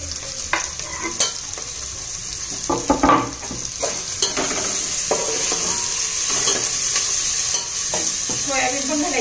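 Tomatoes stirred into a sizzling pan for soybean pulao, a spatula scraping and clacking in irregular strokes over a constant frying hiss, close and fairly loud.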